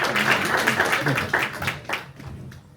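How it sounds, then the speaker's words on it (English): Audience applause at a women's networking brand reveal event: a dense crowd of clapping hands that stays steady and loud, then thins out and fades in the last half second. "So can we give them all a huge round of applause?"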